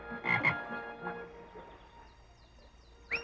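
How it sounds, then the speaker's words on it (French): A frog croaks twice in quick succession from a lily pad in a pond, then calls again more faintly and briefly near the end, with a quiet outdoor ambience between. "elle remarqua une grenouille sur un nénuphar"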